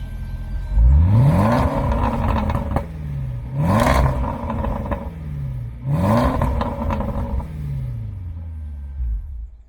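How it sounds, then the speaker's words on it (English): A remapped car engine is revved hard three times, each rev climbing then falling away with popping and crackling from the exhaust, loud and nearby with no speech. "I'm going to do a pop and bang and see how crazy that goes"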